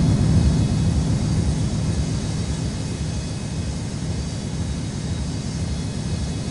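Jet airliner taking off at Washington National Airport in a flight-control video game, snowy conditions: a steady, loud engine roar fills the whole clip, heavy low rumble with a broad hiss above, easing slightly toward the end.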